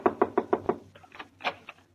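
Five quick, evenly spaced knocks on a door, loud and close, as a radio drama sound effect, followed by faint indistinct murmuring.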